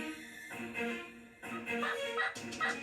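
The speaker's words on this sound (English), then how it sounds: "They're real vocal this morning. We heard a whole bunch of gobbling." Wild turkeys gobble repeatedly on a morning hunt, several rattling calls overlapping at moderate distance in an otherwise quiet outdoor setting.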